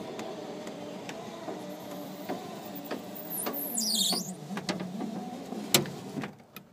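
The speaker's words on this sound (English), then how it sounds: "show my power windows, which that one needs a little bit of work. So I can show you this one, which works." Car power window motor raising or lowering a window that works but runs slowly: a faint, steady motor hum with a rising whine and scattered clicks and taps.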